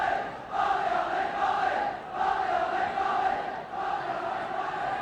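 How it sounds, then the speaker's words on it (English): Football stadium crowd at a Wales v Iceland match, a broad sustained roar that swells and dips in waves, chanting voices blending into a continuous distant din with no clear single voice. "Wales now looking for support from this crowd"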